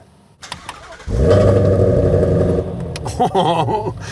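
A Ford Mustang Shelby GT350R V8 cranks after a few clicks and fires into a loud, throaty roar close by, settles into a rumbling idle, then takes a couple of quick blips of the throttle.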